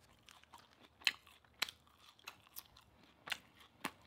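Crispy Burger King food being chewed close up, a series of sharp crunchy bites and chewing clicks at an uneven pace, fairly quiet with no talk.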